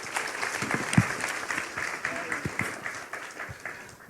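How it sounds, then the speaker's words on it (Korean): An audience at a talk concert applauds, a steady crowd clapping with a few sharper nearby claps, moderately loud and continuous. "박수 부탁드리겠습니다"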